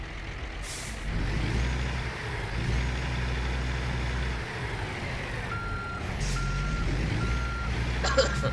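A Peterbilt truck idles with a steady low engine rumble throughout, joined by a sharp hiss of air brakes and a run of repeated reversing beeps toward the end, with faint talking in the background.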